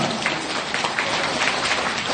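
A gathering of Buddhist lay followers applauds during a flower presentation to newly named members, a short, steady spatter of many hands clapping at moderate level with no talk.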